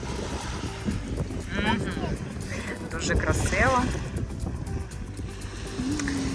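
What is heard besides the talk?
sea waves noise in background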